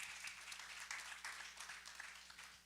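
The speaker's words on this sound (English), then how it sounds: "How about a round of applause for Tara?" An audience at a tech broadcast event applauds a guest, a faint but continuous, even patter of many hands clapping throughout, with no voices standing out.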